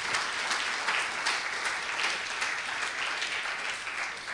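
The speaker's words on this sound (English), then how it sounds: "give a clap offering to Jesus" Church congregation giving a continuous round of clapping for Jesus, dense and sustained with slight surges, fairly loud and without speech.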